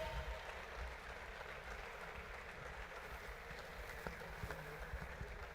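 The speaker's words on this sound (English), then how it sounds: "Keep clapping, keep clapping" An audience at a live stream event applauds, keeping up a steady, faint patter of clapping with a few louder claps standing out.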